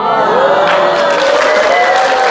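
Audience applause at a motivational lecture, a dense, steady patter of clapping from a crowd with a voice heard over it.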